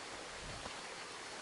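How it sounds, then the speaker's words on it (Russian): Small waterfalls at a fresh mountain spring near Gelendzhik give off a steady, even rush of falling water, broadband and continuous, with no voices. "Это источник, свежий источник. Ну, симпатичные водопады."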